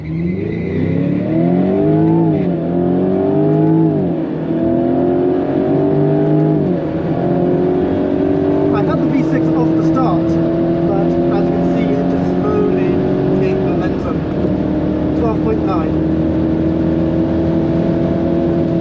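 A Jaguar F-Type launches hard down the drag strip at Santa Pod, its engine roaring loud and close as it climbs through several rising gear pulls with sharp shifts in between, while a voice talks over it.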